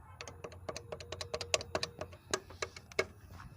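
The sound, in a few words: rattling noise from a Platina motorcycle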